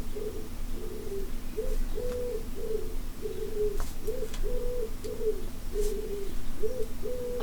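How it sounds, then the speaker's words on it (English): A pigeon outside coos in a steady run of soft, repeated calls over faint room background. "I think there's a resident pigeon outside."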